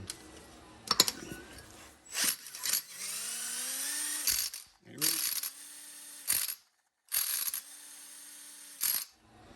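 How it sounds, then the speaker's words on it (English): A cordless drill whirs in several short bursts, spinning up in pitch each time and rattling a paint can shaker, with pauses between bursts. "You put your paint cans in there, and then you click into your cordless drill."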